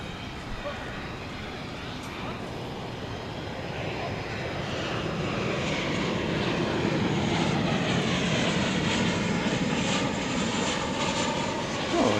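An airliner at DFW Airport at night rumbles as a broad, steady roar that swells gradually and stays loud, with people talking over it.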